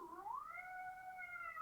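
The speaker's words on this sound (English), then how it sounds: "I've got a cat here, so I'm recording this live." A house cat meows close by in a single drawn-out, rising cry that holds steady and clear against a quiet room.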